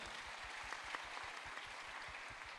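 An audience at a crypto regulation webinar applauds in a steady, dense wash of clapping that stays even and somewhat distant throughout.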